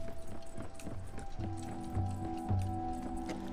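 A horse galloping in the Tiny Tina's Wonderlands video game, rapid rhythmic hoofbeats running steadily throughout, with faint game music tones layered underneath.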